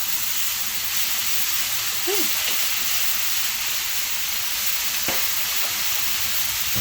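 Thin shredded pork stir-frying in a hot pan for a keto spicy stir fry gives a loud, continuous sizzling hiss close up, with a few brief scrapes as the meat is separated.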